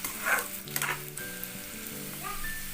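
Onion pieces sizzling in hot oil in a pan for a radish chutney, a soft steady crackle with a few spoon scrapes and clinks, fairly quiet and without talk.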